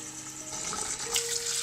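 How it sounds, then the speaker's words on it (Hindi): Water is poured into a cooking pot of rice for chicken pulao in a home kitchen: a continuous splashing gush, close and moderately loud, steady for the whole moment with no talking. "चावल थे हमारी 4 प्यालियाँ और इसमें हम 8 प्यालियाँ पानी की डालेंगे।"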